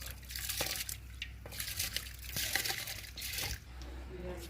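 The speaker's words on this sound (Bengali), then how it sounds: "জলটা গরম হয়ে গেছে আমি এখন চালটা দিয়ে দেবো" Rice poured into a pot of hot water for home-cooked chicken biryani, heard as faint, scattered pattering drips and splashes over a steady low background hum.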